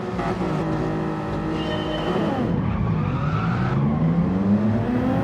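Race cars in the Flatout video game launch at the start of a race at Laguna Seca, with loud, continuous engine roar, rising revs and tire squeal as the pack accelerates away, no talk.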